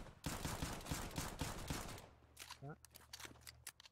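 Rapid gunfire in the game Danger Zone, a dense rattling burst of automatic shots followed by scattered single cracks, with excited voices talking over it.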